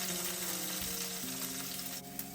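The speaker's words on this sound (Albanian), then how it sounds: "Do të hedhim si fillim hudhër. Do ta skuqim për 1 deri në 2 minuta në temperaturë mesatare." Garlic sizzles in a pan over medium heat, a steady close frying hiss that carries on without a break and has no talk over it, with faint music or other tones sitting beneath it.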